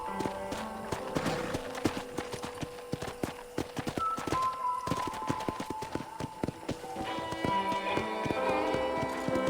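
Horse hooves clip-clop on a ranch in the video game Red Dead Redemption, a steady rhythmic walking gait heard close, with soft game music tones underneath.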